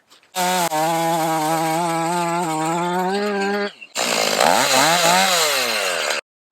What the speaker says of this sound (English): I'm gonna go get a gas chainsaw and then it'll make light work of this.